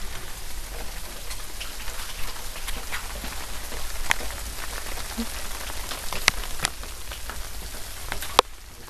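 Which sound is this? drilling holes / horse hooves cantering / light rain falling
light rain falling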